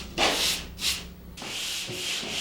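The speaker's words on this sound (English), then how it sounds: "A dry sanding sponge and a folded piece of sanding screen help me smooth out hard to get at areas" Rough scratchy rubbing of a dry sanding sponge on drywall, in a few back-and-forth strokes, close up, then a longer steady scrub.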